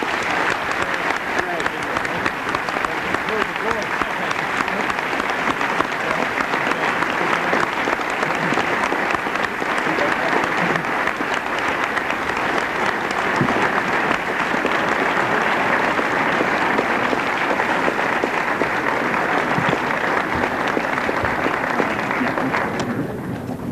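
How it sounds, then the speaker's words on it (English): Sustained, loud applause from a large audience after a speech at an American Israel Public Affairs Committee event on U.S. defense policy, dense steady clapping continuing for over twenty seconds with no talk over it. "Chairman Aspin, the level of applause only indicates our appreciation for your wisdom and your service to our country."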